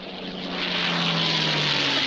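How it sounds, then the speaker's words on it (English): A cartoon propeller plane flying, a steady droning engine hum that swells slightly louder as it goes, with no talk over it. "the judges have sent a plane up."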